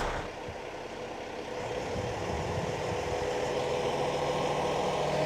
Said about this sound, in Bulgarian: Ти повишаваш оборотите на двигателя